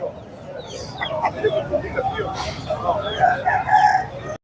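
An Aseel rooster crows amid the bustle of a busy rooster market, its call rising over crowd noise and background chatter.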